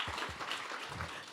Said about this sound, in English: I want to applaud her.